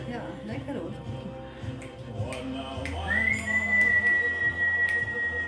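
Someone whistles a long, steady high note over lively chatter and clinking in a busy room at a New Year's Day gathering with champagne.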